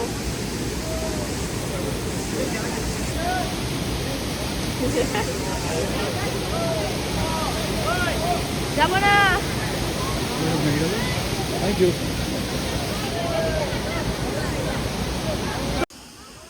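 Banjhakri waterfall in Sikkim roars as a steady, loud wash of falling water throughout, with voices of visitors and someone talking over it nearby.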